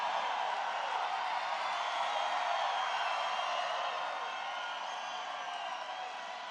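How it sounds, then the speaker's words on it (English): A large crowd at an Iowa political rally roars and cheers, a dense sustained wash of voices from a distance that holds steady and eases slightly toward the end. "What a crowd."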